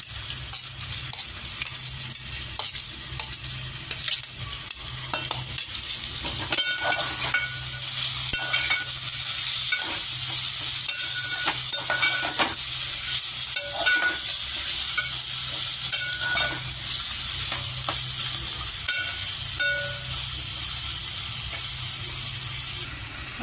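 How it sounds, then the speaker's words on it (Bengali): Grated ginger and green chillies fry with potatoes in a pan, making a constant close sizzle punctuated by repeated stirring scrapes and spoon knocks against the metal. "এবার আমি কিন্তু আদা আর লঙ্কাটা দিয়ে দেবো, একটু ভাজা ভাজা করে নেবো এর সাথে, আলুর সাথে দিয়ে"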